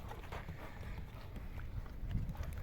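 Horse hooves walking on ground while the horse is led for inspection, a steady clip-clop of footsteps at close range with faint background noise and no talk.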